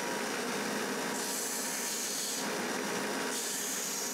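Plywood cryptex pieces are sanded by hand in steady rhythmic strokes, a close, raspy hiss of abrasive on wood repeating back and forth with no talking.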